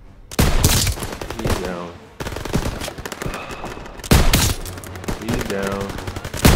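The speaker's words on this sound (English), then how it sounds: "MGs, open fire. Keep them off that bridge." Machine gun fire rattles through a World War II battle in the Call of Duty WW2 game, loud rapid bursts broken by brief pauses, with a voice calling out over the shooting.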